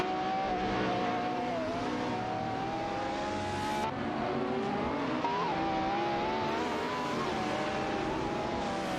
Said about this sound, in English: The Koenigsegg Agera RS is pushing up a strong fight against the Lotus 311 for that position.